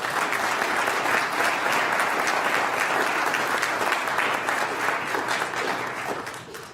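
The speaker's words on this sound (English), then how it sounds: "Round of applause for this group." An audience at a PCC governing board meeting claps for a recognized group, producing dense, sustained applause that holds loud and even for several seconds before tapering slightly at the end.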